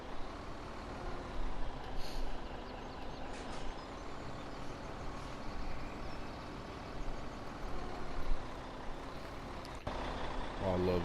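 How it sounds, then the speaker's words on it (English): An old farm truck hauling a sugar beet harvest rumbles steadily through a broad, noisy engine drone, with a brief hiss of brakes near the end and some talk over the top. "Oh, I love this old truck here."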